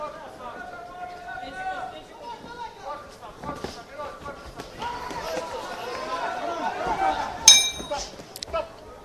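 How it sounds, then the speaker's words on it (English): A boxing bell ends round one at the IBA 2025 Men's World Boxing Championships in Dubai, giving a single bright metallic ring near the end, over steady commentary and arena crowd noise. "There goes the bell at the end of round one."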